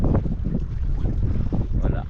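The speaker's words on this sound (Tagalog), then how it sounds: "Karating lang yung ibang bangka yun" A boat arrives over open water, its low rumbling drone mixed with heavy wind buffeting the microphone and a faint wash of waves, with some talk nearby.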